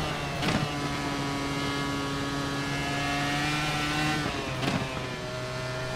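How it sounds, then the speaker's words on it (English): iRacing Formula IR-01 open-wheel race car in a sim racing game at the Nürburgring, a steady high-revving engine whine with sharp backfire pops near the start and again toward the end, as revs drop through downshifts. "The downshifting and the backfire. And the just the high rev, I think it sounds like a good car."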